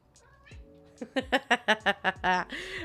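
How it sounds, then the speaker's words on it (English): A cat meows repeatedly, about seven short, close meows in quick succession, ending with a longer drawn-out one. "Can you hear her meow?"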